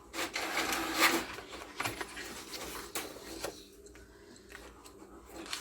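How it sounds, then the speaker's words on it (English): A home printer runs, feeding and printing pages with a soft mechanical whir and rustle that is strongest early and then fades to quieter clicks, with no talk. "I'm printing off some extra pages just because when I work"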